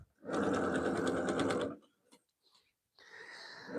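A sewing machine stitches a back stitch in one loud, steady burst of about a second and a half, then stops, leaving quiet handling noises and a brief resumption of motor hum.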